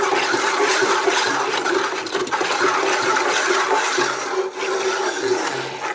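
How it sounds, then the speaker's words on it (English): Ceramic glaze mixed with water being stirred in a container, making a continuous wet sloshing and swishing that stays loud and close for several seconds with only brief dips. "So I'm going to stir my glaze up."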